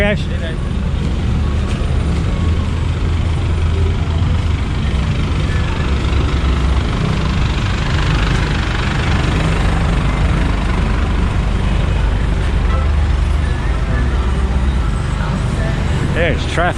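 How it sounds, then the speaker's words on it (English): A dense, continuous wash of road traffic in Mabalacat, Pampanga, Philippines, with idling and passing engines rumbling steadily and loudly close by for the whole stretch. "There's traffic everywhere."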